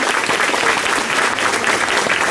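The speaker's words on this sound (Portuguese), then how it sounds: "Magalhães, uma salva de palmas por vocês." Dense, steady applause from a congregation at an outdoor Catholic mass during a faith pilgrimage, many hands clapping together at close range with no voices over it.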